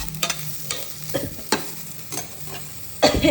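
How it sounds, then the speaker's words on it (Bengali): Bitter gourd pieces frying in a little oil, a soft sizzle punctuated by about six sharp scraping stirs at irregular intervals, the last one loudest, no talk. "উচ্ছেটা মোটামুটি লাল লাল করে একটু ভাজা হয়ে গেছে"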